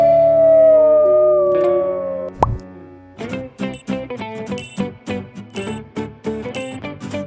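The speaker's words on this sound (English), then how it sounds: "The correct answer is wolf" A drawn-out wolf howl, a single long wavering tone that rises and then falls, is followed by a sharp thud and a run of plucked, rhythmic musical notes.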